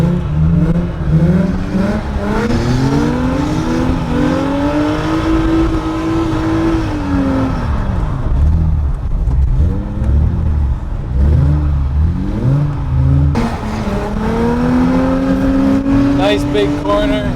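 A car drifting on ice with left-foot braking through a big corner: the engine drones close and loud, rising and falling in long rev swells as throttle and brake are balanced.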